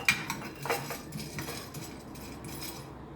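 Nuts being roasted and stirred in a pan, giving light clinks and scraping rattles of the nuts against metal, irregular and fairly quiet, with a soft sizzling background.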